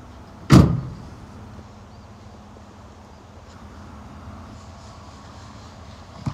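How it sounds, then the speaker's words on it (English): The easy lift and drop tailgate on a 2018 GMC Canyon pickup: one loud close thunk near the start, then quiet with a faint rumble, and a small knock at the very end. "And you do get the easy lift and drop tailgate"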